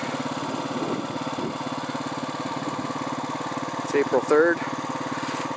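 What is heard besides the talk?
Honda four-wheeler engine running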